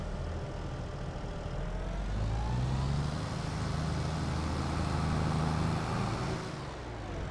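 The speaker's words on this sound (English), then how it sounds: "So let's start the engine and just get cracking straight into it." A tractor engine rumbles at steady idle in Farming Simulator 22 on the Haut-Beyleron map, a low continuous drone that swells slightly in the middle and eases off near the end, with no talking.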